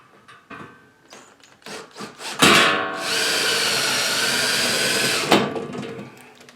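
A power drill drives screws into a metal closet door track channel, a sustained loud whirring grind lasting about three seconds after a few short bursts and knocks.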